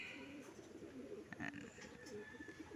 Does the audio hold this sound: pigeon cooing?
yes